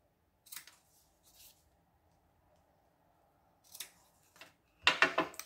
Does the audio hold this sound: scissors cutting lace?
yes